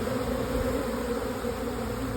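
Honeybees fan and swarm at the entrance of a nuc box, making a dense, continuous buzzing drone close by with no voices over it.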